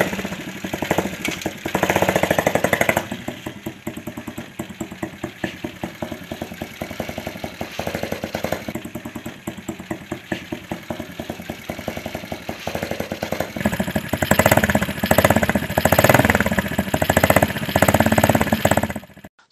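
A small homemade two-wheeler engine, built by a student from bicycle and motorcycle parts, runs close by with a rapid, rattling two-stroke-like putter that rises and falls in revs.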